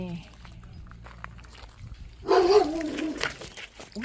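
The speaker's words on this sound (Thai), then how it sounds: "มีหมาเห่าด้วยค่ะ" Dogs bark from partway through at a farm park campground in Pak Chong, Nakhon Ratchasima, in a sudden loud burst of barking over outdoor background noise and a speaking voice.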